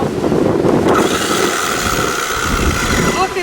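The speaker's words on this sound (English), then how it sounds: "Sorry guys, we got wind today." Strong wind buffets a microphone outdoors, producing a loud, continuous rumbling roar, with a brief mechanical whir near the end.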